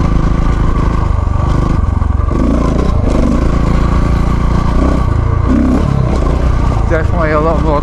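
A motorcycle fitted with auxiliary pod lights cruises at night, its engine droning steadily with wind rush and some rattle. Someone talks over the ride throughout.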